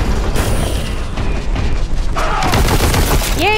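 Gunfire from the shooter game Warhammer 40,000: Boltgun: dense, rapid bursts of shots and booming impacts packed together, loud and continuous over the whole stretch.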